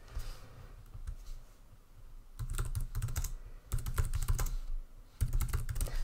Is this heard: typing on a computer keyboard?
yes